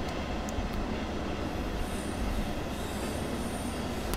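A RailAdventure V60 locomotive tows a DB Regio double-deck Dosto train in Train Sim World. The steady, dense rumble of rolling rail cars goes on without a break, with faint squealing from the wheels and no talk.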